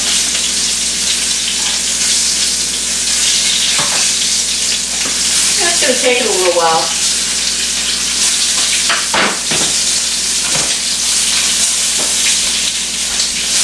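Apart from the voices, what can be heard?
boneless chicken breasts frying in butter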